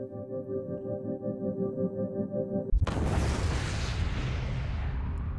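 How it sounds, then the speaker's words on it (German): Supernova star explosion sound effect: a low humming tonal drone gives way suddenly to a loud, deep boom that swells into a sustained roaring rumble, with no speech. "Der Stern explodiert."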